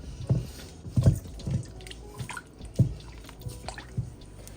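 Cold water splashes and drips as a batch of homemade butter is rinsed to wash out leftover buttermilk, giving a string of soft, close, irregular watery plops and drips, with no talking.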